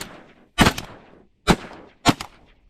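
Three loud shotgun blasts while duck hunting on public land during a flood tide, the first a quick double shot, then two single booms spaced about half a second apart, each with a short echoing tail.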